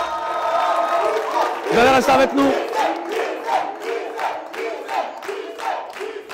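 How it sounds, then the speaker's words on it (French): A television comedy show's studio audience cheers and then claps in a steady rhythm for the guests, loud crowd noise alongside a host's speech. "Applaudissements pour les gars."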